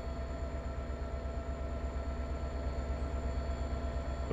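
A steady, droning rumble of a train running in Train Sim World 2, with a continuous low engine hum and faint tonal whine that stays even and unbroken throughout.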